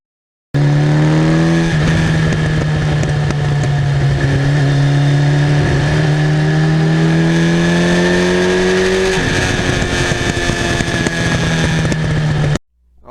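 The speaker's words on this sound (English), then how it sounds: "When I put the 86 exhaust system on here, it's a little more rumbly than the stock one. I kind of like the sound, a little better than stock." A 1982 Suzuki GS1100E motorcycle engine with an aftermarket exhaust runs loud and steady, its rumbling tone rising and falling through several throttle changes, close by with no talking.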